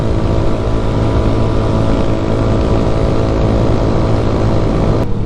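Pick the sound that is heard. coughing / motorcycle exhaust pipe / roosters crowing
motorcycle exhaust pipe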